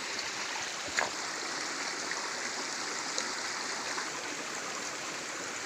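Forest river stream flowing steadily upstream, a continuous close rushing wash of water with no voices, a few faint splashes over the constant broadband hiss.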